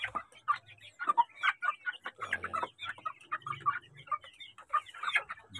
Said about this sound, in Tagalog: Napakain ka na ng manok.